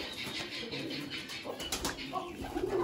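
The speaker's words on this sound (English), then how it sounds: "Ooh, these are pigeons." Pigeons and a chicken kept in an outdoor enclosure, with soft cooing and wing flutters over steady outdoor background noise.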